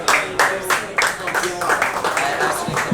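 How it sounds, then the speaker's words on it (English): Audience applause at a security and decentralisation panel event, a short burst of close hand claps with uneven rhythm and a few voices mixed in. "let's give them a warm round of applause"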